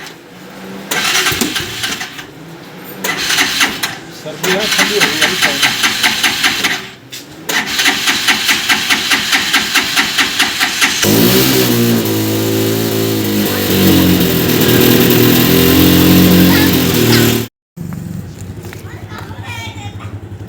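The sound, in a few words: vehicle engine starting and driving away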